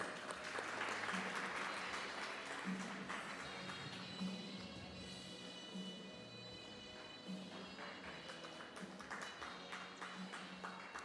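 Applause at an academic awards ceremony and 7th grade graduation, a steady wash of clapping from the audience at moderate distance, sustained and even throughout.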